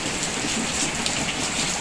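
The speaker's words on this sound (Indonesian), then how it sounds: "deras hujannya" Heavy rain falling before dawn, a dense, steady hiss of downpour that stays loud and continuous with no voices.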